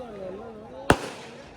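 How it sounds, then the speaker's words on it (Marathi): A single sharp firecracker bang bursts during a wedding procession, loud and close, after a stretch of background music and murmur, with a brief decaying crackle afterward. "फटाक्यांची आतिषबाजी आपण बघू शकता गाईज."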